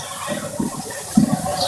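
Water poured over a person as a shower punishment during a playful live stream: a steady running, splashing rush with a few heavier gushes, fairly close and moderately loud, with no talking.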